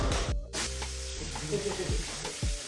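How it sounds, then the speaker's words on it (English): Chicken sizzles and fries steadily in a pan at close range, with stirring clatter and a couple of sharp utensil knocks over the continuous hiss. "Yeah, the chicken frying."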